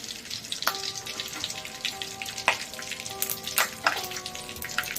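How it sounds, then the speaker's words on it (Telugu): Mustard seeds sizzling and popping in hot oil in a kadai, a steady hiss broken by a few sharp crackles, with a faint ringing metallic tone in the background. "ఫస్ట్ కడాయి పెట్టుకొని ఆయిల్ వేసుకోవాలి. ఆయిల్ హీట్ అయ్యాక"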